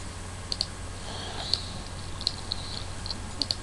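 Sparse keystrokes tapped on a computer keyboard while entering AutoCAD command-line coordinates, faint isolated clicks spaced irregularly over low background hiss.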